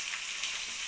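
Onions sizzling steadily in a hot pan with oil, a soft, constant crackling hiss with no talk over it.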